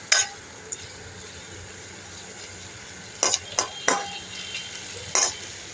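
Whole garlic, tomato, potato pieces and green chilies sautéing in a pan for chicken curry produce a faint, low sizzle punctuated by a handful of sharp spoon scrapes and clinks against the pan.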